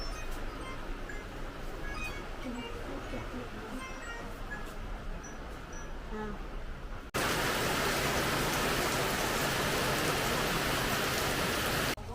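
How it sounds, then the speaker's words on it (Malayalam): Rain falls steadily, then abruptly swells into a much louder, heavier downpour that continues to the end. "വീണ്ടും തുടങ്ങിയ മഴ"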